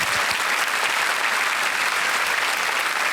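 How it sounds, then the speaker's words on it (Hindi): Steady, dense applause from a studio audience on the Hindi quiz show KBC Season 11, a loud continuous roar of clapping with no break. "तालियां बजती हैं शर्मिष्ठा डे के लिए।"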